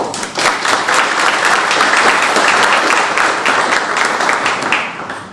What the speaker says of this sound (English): Give a round of applause to OMB Director Angela Fair